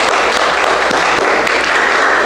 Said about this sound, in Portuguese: Para o Senhor Jesus uma linda salva de palmas.